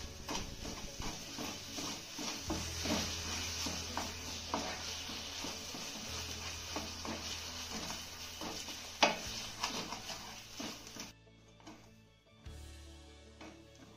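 Thick potato khoa and powdered sugar mixture stirred in a pan for a sweet potato modak, giving steady scraping and clinking strokes close up with a faint sizzle, and a sharp knock near the end.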